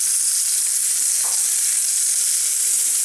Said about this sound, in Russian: рыбка жареная